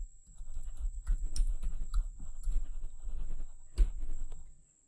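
A computer keyboard is typed on in a quiet room, with soft, irregular close key clicks in short bursts and one sharper tap near the end.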